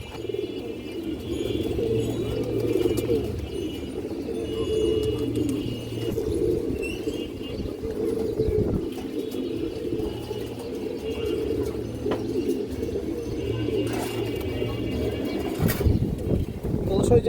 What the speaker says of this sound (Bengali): খুবই কালারফুল কবুতর